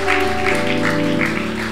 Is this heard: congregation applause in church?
yes